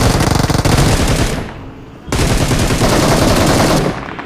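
Bursts of DP machine gun fire in the mobile battle royale game BGMI, loud rapid automatic shots in two long volleys separated by a short pause.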